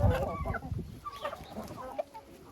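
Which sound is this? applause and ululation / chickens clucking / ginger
chickens clucking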